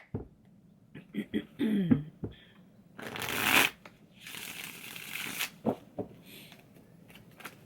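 Tarot cards being shuffled by hand during a fire-sign reading, with a run of soft riffling and tapping followed by a louder, longer burst of shuffling noise and a few more card taps.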